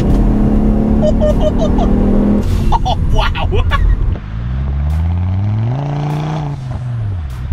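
A tuned 300+ bhp Volvo 850 estate accelerates hard, its engine note climbing steadily and then dipping, heard from inside the car after a brief exclamation and some cabin noise.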